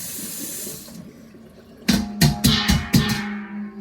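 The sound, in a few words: washing a metal bowl under a running tap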